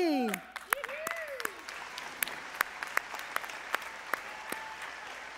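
An audience at a Christmas concert applauds the performers with sustained, dense clapping, plus whistles and cheers rising above it.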